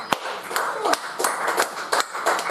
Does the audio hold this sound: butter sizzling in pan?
no